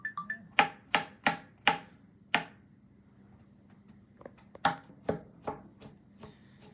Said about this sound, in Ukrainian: І це ми все дрібнесенько покришимо.